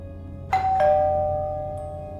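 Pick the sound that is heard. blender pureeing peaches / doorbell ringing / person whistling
doorbell ringing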